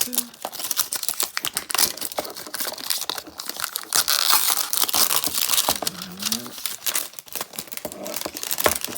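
Plastic blind box packaging for Doorables Movies series 2 being torn and opened by hand, close-up crinkling, crushing and tearing in steady bursts throughout, with faint speech at times.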